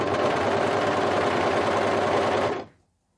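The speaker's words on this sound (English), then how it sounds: "so just start to sew" A sewing machine stitches a neckband onto a turtleneck garment in a steady, close, loud whir that runs continuously for about two and a half seconds before stopping abruptly.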